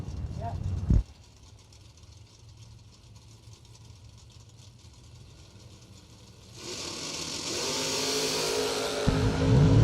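1960s classic drag race cars leave the starting line at a drag strip, a sharp burst giving way to a steady engine drone that swells into a louder, rising roar near the end.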